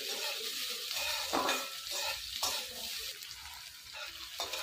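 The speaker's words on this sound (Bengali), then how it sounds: "পেঁয়াজগুলো দিয়ে দেবো, লঙ্কাগুলো দিয়ে দেবো। নেড়ে চেড়ে দেবো।" Onions and green chillies fry in a pan and get stirred, with a soft, steady hiss and a few louder scraping sweeps, fairly quiet overall.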